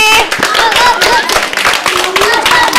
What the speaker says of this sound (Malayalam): കറക്റ്റ് ആൻസർ ആണ് മഴക്കാറാണ് കറക്റ്റ് ആൻസർ ക്ലാപ്പ് ചെയ്തേ